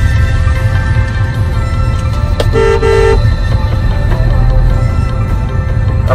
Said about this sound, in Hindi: ये ट्रैफिक देखिए आप